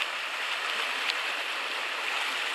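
Water washes steadily along a rocky sea shoreline as a person swims through it during coasteering at a cape, a continuous hissing wash with no talk.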